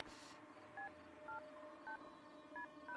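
A phone number is punched in on a telephone keypad: a series of about five short, evenly spaced dial-tone beeps, faint and clean, following a brief hiss at the start.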